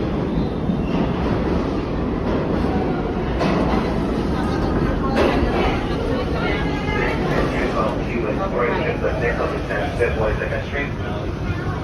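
A 1970s New York City subway car, built between 1975 and 1978, rumbles loudly and steadily from inside, with wheel and track clatter and voices talking over the din.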